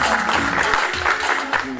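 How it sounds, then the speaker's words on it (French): Applause from the crowd at a festive gathering of the PDCI-RDA women's union in Paris, a dense steady patter of many hands filling the moment, with faint voices mixed in. "Un applaudissement pour elle, s'il vous plaît."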